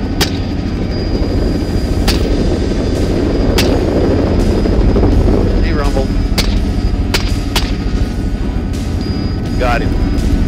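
Shots from a 300 Blackout PDW pistol fired from a helicopter while hunting hogs and coyotes: sharp, loud single cracks spaced irregularly over the continuous heavy thrum of rotor and engine noise.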